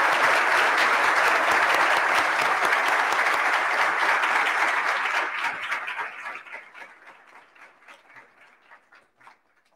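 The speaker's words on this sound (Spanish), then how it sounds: "Un fuerte aplauso para el doctor Sarmiento." Loud applause from an audience at an anniversary event for the CTIC medical centre, dense and sustained for several seconds before thinning into scattered claps that fade out.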